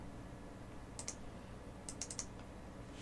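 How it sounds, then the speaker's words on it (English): Quiet clicks on a computer keyboard as a password is typed, a couple of isolated taps followed by a short quick cluster, faint over a soft background hum. "Twitter will not let me type in a password"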